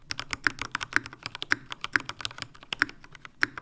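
Steady typing on a custom mechanical computer keyboard with new switches and stabilizers: crisp, close clacks in a quick, uneven rhythm, with a heavier thock landing about every half second.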